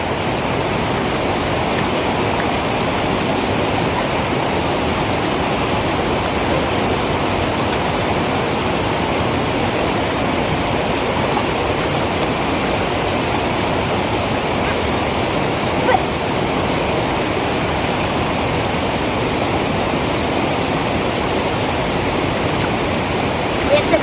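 Loud, continuous roar of foaming river water churning over rocks in a Chitral village, close and unbroken throughout, with no clear speech above the rushing.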